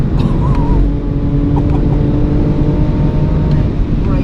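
A BMW on the Goodwood circuit, steady engine drone with tyre and wind noise throughout, loud and close as the driver comes back on the throttle, no clear rising rev sweep.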